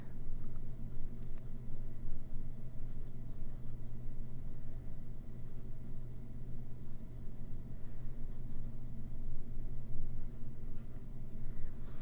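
A fountain pen with a fine nib scratches steadily across paper, faint and close, under a constant low background hum.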